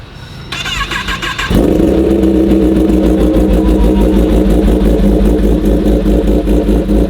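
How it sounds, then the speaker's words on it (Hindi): A Kawasaki ZX10R Honeycomb Edition motorcycle fitted with a loud SC Project exhaust cranks briefly, then fires up into a very loud, close, throbbing idle that holds steady to the end. "पहली बाइक मैं स्टार्ट कर रहा हूँ जो एक्चुअल में काफ़ी लाउड है"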